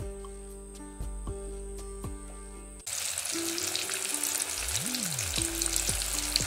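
Fish rubbed with turmeric and salt frying in hot oil in a home kitchen: a steady, close, loud sizzle that swells in after a quieter opening with faint tonal background sounds.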